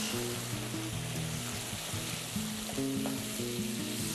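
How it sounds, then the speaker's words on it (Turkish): Beef stroganoff with black pepper and mustard powder sizzles in a pan just after water is added, a dense, constant bubbling hiss with low melodic music running beneath it. "toz hardal ilave edip malzemeleri birbirine yediriyoruz içme suyu ilave ediyoruz."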